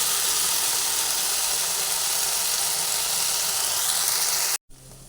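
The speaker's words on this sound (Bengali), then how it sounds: "একটু করে ভেজে নেব" Okra frying crisply in hot oil, a steady loud sizzle and hiss that runs unbroken, then cuts out abruptly near the end.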